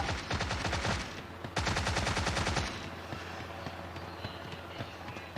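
Rapid gunfire in the battle-royale video game Sausage Man: two long bursts of fast repeated shots, loud and close, then quieter game ambience.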